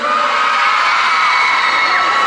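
Fans cheering loudly at a special concert, a continuous high-pitched crowd roar of shrieks and whoops that stays dense and unbroken throughout.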